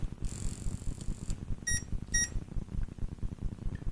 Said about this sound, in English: It goes little beep and then the long beep.